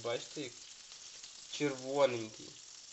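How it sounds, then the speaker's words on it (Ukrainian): Small crucian carp and a perch fry in a pan with a steady, soft sizzle beneath someone talking close by. "Смажиться рибка."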